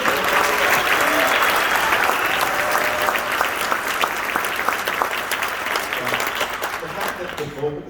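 An audience applauds a 7th grade band in a loud, dense, sustained burst of clapping that fills the room and tapers slightly at the end.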